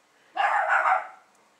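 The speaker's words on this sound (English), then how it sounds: "And that's Suki barking" A puppy lets out a single short, sharp bark close by, and it fades quickly into quiet.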